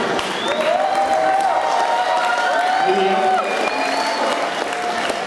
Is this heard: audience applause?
yes